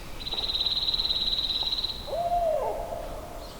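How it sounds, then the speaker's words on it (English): A barred owl calls outdoors in Idaho turkey country with one short, sliding hoot, heard after a long, steady high whistle over a background hiss. "And there's barred owls."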